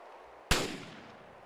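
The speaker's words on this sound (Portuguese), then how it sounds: "Eu ouvi um tiro, tem, mas tá bem longe." A single distant gunshot in the military shooter game Arma 2 cracks suddenly out of quiet background noise, then trails off in a long, rolling echo.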